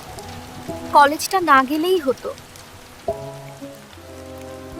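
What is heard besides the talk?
rain falling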